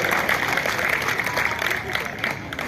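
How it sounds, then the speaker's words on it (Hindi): A crowd at a public event applauds to welcome a union minister, sustained dense clapping at a fairly strong level with no talk over it. "तालियों की गड़गड़ाहट के साथ माननीय केंद्रीय मंत्री जी का अभिनंदन और स्वागत करें"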